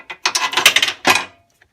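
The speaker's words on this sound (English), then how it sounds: "then I'm gonna insert the bolts" Bolts being pushed and rattled into the bumper rebar of a 2018 Volvo XC60, with short metallic ratcheting clicks in two quick close bursts.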